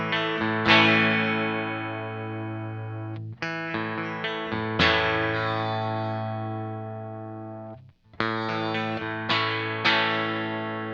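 An electric guitar plays through a Broughton Audio Omnicomp compressor pedal while its ratio is adjusted, giving three groups of ringing strummed chords with even, held sustain, close and loud, broken by brief gaps.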